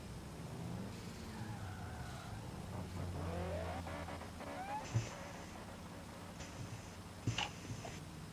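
A Supra car on a practice run at a street car event, its engine heard from a distance as a rising and falling drone with revving gear changes and a couple of sharp pops.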